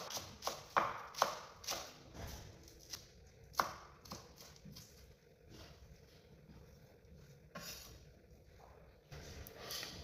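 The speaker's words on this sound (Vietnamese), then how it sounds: "Mình sắc càng nhuyễn càng tốt." A knife finely chops green onions (scallions) on a board, with sharp, quiet taps that come quickly at first and then thin out into softer, scattered knocks.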